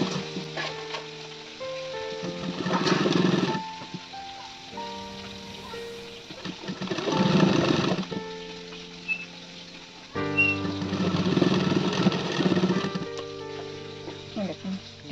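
Scrap pieces of red and purple fabric run through a sewing machine for a baby frock, in three separate bursts of stitching of a second or two each, over a steady tonal background.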